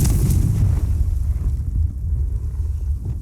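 A fiery Confringo blast spell in the Hogwarts Legacy video game: a loud, deep explosion bursts at once and rolls into a rumbling boom that fades over a few seconds, close and with no talk over it.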